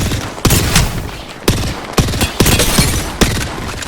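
Nemesis burst rifle firing in Apex Legends, loud close bursts of sharp gunshots repeating at short uneven intervals, each crack followed by ringing echo, with no talk.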